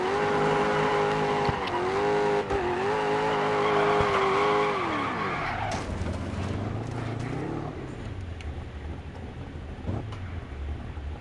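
Rally car in Dirt 4 braking hard and skidding: a loud, steady engine drone with a tonal whine that drops in pitch as the car slows, followed by a quieter rough rumble of tires scrubbing on the surface.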